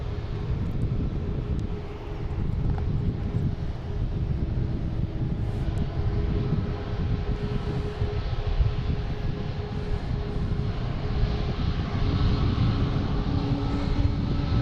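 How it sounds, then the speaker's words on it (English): Avianca A320 airliner taking off from Boston Logan International Airport, a steady broad engine roar heard from a distance outdoors, continuous throughout with wind buffeting the microphone and no voices. "we have Avianca taking off, heading to San Salvador"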